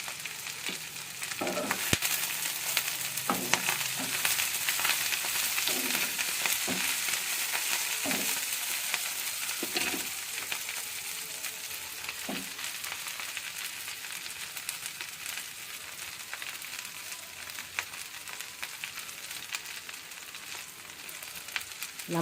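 Drumstick leaves fry in an oil-filled pan with a continuous close sizzle, while a spoon stirs and scrapes them, adding irregular clinks and knocks throughout.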